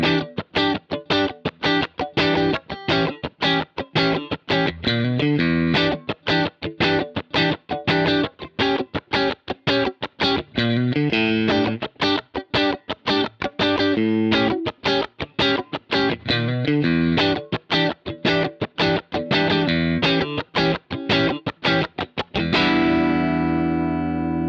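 An electric guitar running straight through a Tech 21 SansAmp PSA 2.0 pedal into a recording interface plays a tight, funky, distorted rhythm of rapid choppy strums, closing on one ringing chord.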